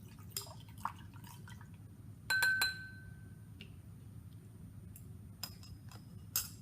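A metal scoopula is rinsed in a glass beaker of water, giving light drips and sharp glassy clinks at intervals over a low, quiet background.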